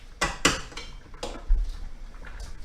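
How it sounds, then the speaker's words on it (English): Food is stirred in a pot with a few sharp metallic clinks and scrapes of a utensil against the side, spaced irregularly and close by, while canned salmon linguine is being prepared. "give it a stir again."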